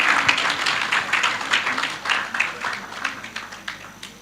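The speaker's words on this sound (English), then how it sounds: "Please give her a round of applause." Applause from a crowd at a corporate sales event, a steady patter of many hands clapping at moderate volume throughout, with no voices over it.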